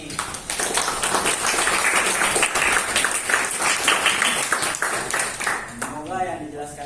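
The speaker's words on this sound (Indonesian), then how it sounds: "Tepuk tangan dulu nih buat narator kita kali ini." Students in a discrete mathematics class applaud the narrator with several seconds of steady, moderately loud clapping, with voices mixed in before it fades.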